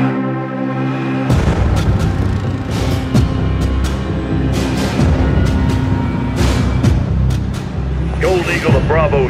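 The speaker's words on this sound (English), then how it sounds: "Security confirms gunfire and at least one explosion in the stadium with multiple injuries" Gunfire and explosions erupt inside a stadium in the video game Modern Warfare 3, a dense, continuous barrage of loud bangs and booms with a rumbling, chaotic wash that carries throughout.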